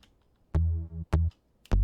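Punchy bass synth patch with a sharp attack and a touch of high end, playing three short, deep notes in a loose rhythm, clean and close with quiet gaps between them.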